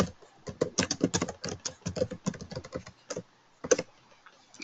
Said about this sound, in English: Please type in your passphrase now.